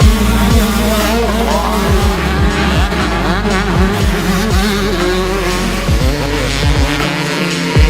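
Several 125cc motocross bikes race around an amateur nationals track, engines revving loud and continuous with repeated pitch sweeps as riders pass close by and shift through gears, with no talk.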